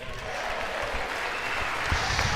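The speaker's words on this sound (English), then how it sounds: "the president getting some applause there" Applause on a state House floor for the president's comments, a sustained crowd of clapping hands that swells slightly toward the end with no one speaking over it.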